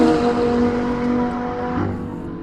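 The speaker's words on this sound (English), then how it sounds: "in that Audi RS4 turbocharged V8" An Audi RS4 race car with a turbocharged V8 runs during qualifying, giving a steady, loud engine drone with strong tonal harmonics and no talk over it.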